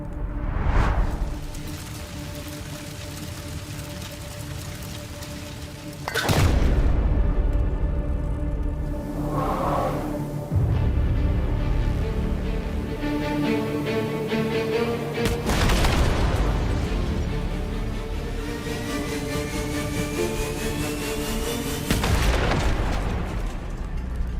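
Heavy explosions during a tank battle at Avdiivka: several deep, loud booms at spaced intervals, each a sharp blast followed by rumbling decay over continuous battlefield noise.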